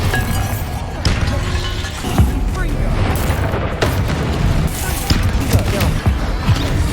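A Bombarda spell in Hogwarts Legacy combat goes off as a series of loud booming blasts and crashing impacts over game music. A voice calls out spell names between the hits.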